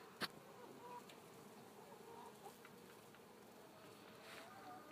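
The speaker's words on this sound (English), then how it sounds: "It just sounds like a bee factory." Bees buzz around sunflowers and asters outdoors, a faint, steady droning hum with individual insects drifting closer and farther, and a brief soft tap near the start.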